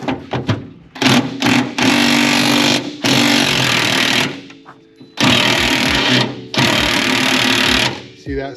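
An impact wrench whirs in loud sustained bursts, stopping and restarting several times while spinning bolts on a 1954 Chevy 3100 truck, with a person talking in between.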